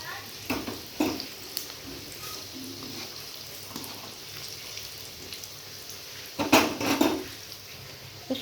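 Jackfruit-seed KFC-style rolls deep frying in hot oil in a wok, a soft steady sizzle with brief louder bursts of bubbling and scraping utensil clatter, moderately near and with no talking.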